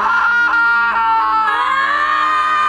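Group of women stranded on a remote island screaming together in a film, a loud sustained chorus of overlapping high-pitched yells rising and wavering throughout, close and dominant.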